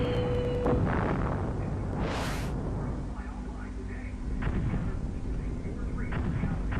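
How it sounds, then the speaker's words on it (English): Guided bombs exploding on targets in the SNES flight game Super Strike Eagle, a rumbling explosive burst with a rising whoosh over a continuous low engine drone, with brief bursts repeating. "So here you can basically shoot or drop like your guided bombs"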